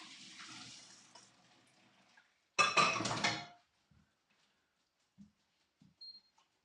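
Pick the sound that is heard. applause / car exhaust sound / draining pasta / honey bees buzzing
draining pasta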